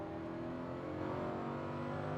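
A Lamborghini Huracan LP580-2 on a race track gives a faint, steady, droning engine note as it accelerates, with no voices.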